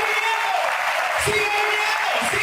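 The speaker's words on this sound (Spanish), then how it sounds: "aplausos al Señor" A church congregation claps steadily through a Spanish-language sermon, the dense applause running under a preacher's voice that rises over it.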